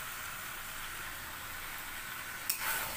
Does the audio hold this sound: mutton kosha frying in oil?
yes